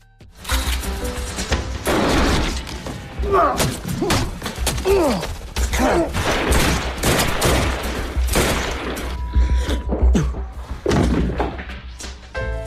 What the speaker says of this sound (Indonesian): Pria botak dan yang lainnya menghujani Jack dengan tembakan peluru.